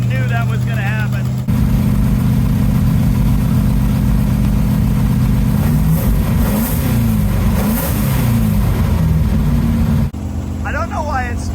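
A 1966 Plymouth Barracuda race car engine with a big exhaust leak runs loudly and steadily, a rough ticking rumble close by, with brief talk at the start and end.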